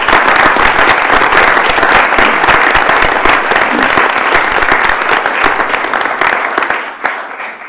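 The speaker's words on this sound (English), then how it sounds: "Let's give our Chamber and County Executives a round of applause." Dense, sustained applause from an audience at a university system board of regents meeting, loud and steady throughout before tapering off at the end, with no talk over it.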